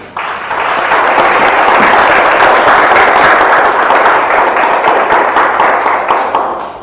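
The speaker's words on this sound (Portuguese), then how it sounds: "Aplauda Jesus." A church congregation applauding: dense, sustained clapping from a crowd that swells quickly, holds steady for several seconds, then begins to taper off.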